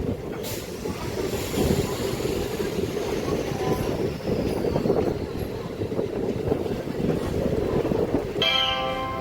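A MEMU local train pulls out of Bapatla railway station with a loud, continuous rumble and the rhythmic clatter of wheels over rail joints, and a bright ringing tone comes in at the very end.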